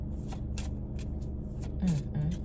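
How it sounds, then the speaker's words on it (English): Cards being shuffled close by, a string of quick riffling bursts with a low voice murmuring underneath. "As I shuffle these cards"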